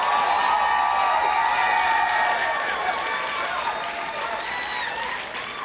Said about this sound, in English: A round of applause for our nonprofit professionals.